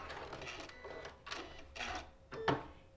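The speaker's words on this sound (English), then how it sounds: "we're going to sew from the bottom point all the way up to this corner point right there" Sewing machine stitching quilt pieces from a bottom point up to a corner, short uneven bursts of mechanical whirring and tapping, fairly quiet and close, ending in a sharper stitch.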